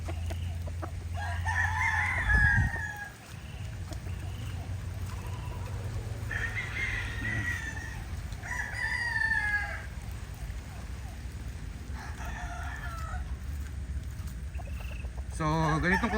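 Young stag roosters on a rainy farm crow several times, loud and close, between softer clucks, with a steady low hum underneath and someone talking at points.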